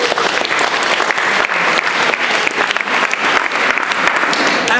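An audience at a Toastmasters memory skills workshop for public speakers bursts into sustained applause, a thick, even wash of many hands clapping close by without pause.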